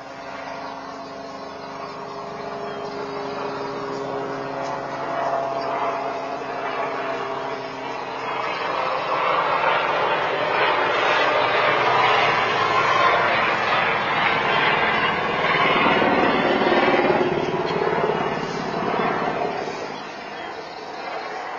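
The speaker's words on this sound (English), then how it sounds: "caught the security camera footage containing audio of Kobe Bryant's helicopter accident in Calabasas" Security camera audio of Kobe Bryant's helicopter crash in Calabasas: a loud, continuous engine and rotor drone that swells and fades over about twenty seconds, heard from a distance without voices.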